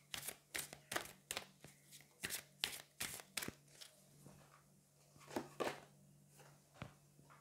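Angel oracle cards being shuffled and drawn, a run of sharp, papery riffling bursts close up, quick flurries then sparser snaps and slides, quiet and alone with no talk.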